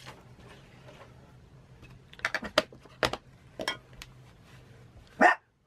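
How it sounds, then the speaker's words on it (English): A pet dog barks indoors in a quiet home craft space, a handful of short, sharp barks scattered across a few seconds, moderately close, with the final bark loudest. "I don't know why my dog is making noise."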